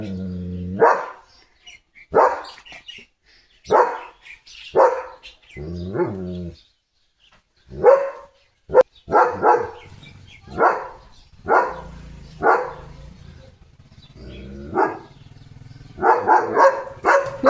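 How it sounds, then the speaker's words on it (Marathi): A German Shepherd barks repeatedly in loud, deep single barks spaced a second or two apart, with a quick burst of barks near the end. "लिपची सकाळ चालू झाली भुकत भुकत"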